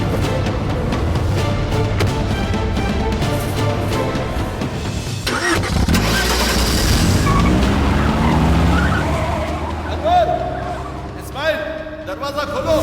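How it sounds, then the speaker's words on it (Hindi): A car pulls away with tires skidding and engine revving, loud and continuous, layered under dramatic film score and effects with a sweeping rise midway. "गाड़ी निकालो।"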